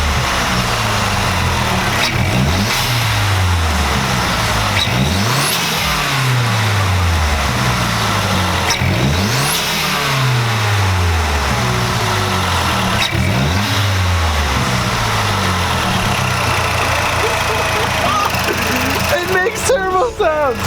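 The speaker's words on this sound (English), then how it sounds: "I'm gonna give it some revs so you guys just hear how the intake sounds now" A turbocharged Mazdaspeed3 engine with a 3.5-inch intake and Corksport intercooler revs again and again, rising and falling every couple of seconds with a rushing intake roar, while people talk over it.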